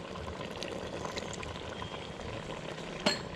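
Kerala crab curry simmering in a pot after coconut milk is poured in, a soft continuous bubbling and faint frying hiss, with one sharp utensil clink near the end; fairly quiet and close.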